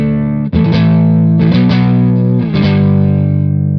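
A high-gain electric guitar on the neck pickup runs through a Silver Llama amp sim captured with a dynamic mic, playing loud, thick distorted sustained chords that change a few times with short picked transitions.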